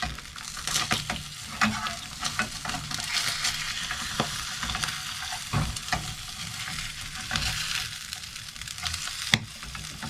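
An egg fries in a pan on a narrowboat stove, steady sizzle with scattered crackles and a few sharp scraping knocks from a utensil, close and alone.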